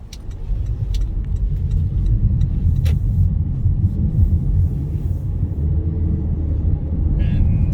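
Car moving through city traffic heard from inside the cabin, a continuous loud low rumble of engine and road noise with faint clicks above it.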